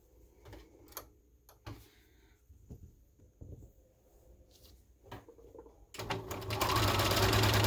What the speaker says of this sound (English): I'm going to sew right along this edge here.